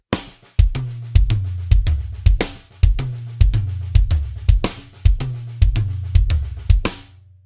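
Drum kit plays a moderate-tempo pattern moving across the toms, with crisp cymbal crashes and deep tom hits in a repeating groove.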